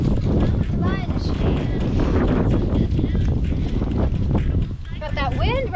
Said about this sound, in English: Got that wind right now. I hope it's not too loud for you.